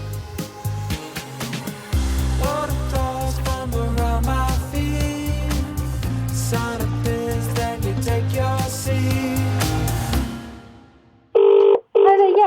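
Telephone keypad tones beep in a quick run of single notes over a steady hum, and a couple of louder tones come at the end.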